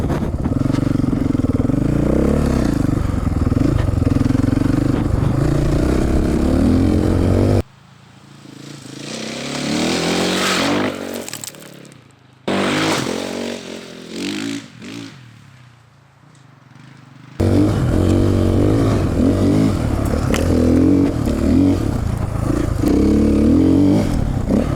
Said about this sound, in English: This is a dirt bike with blinkers.